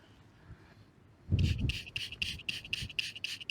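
A hammered coin found while metal detecting gets sprayed and rubbed clean: a brief hiss, then a quick run of close, rhythmic scrubbing strokes, bright and scratchy, repeating evenly with no talk.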